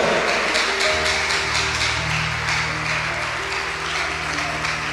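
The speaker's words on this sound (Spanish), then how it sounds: "iglesia, dale ese aplauso fuerte al Señor" A church congregation applauds at a worship service, a dense, loud clatter of many hands clapping steadily throughout, with sustained music tones underneath.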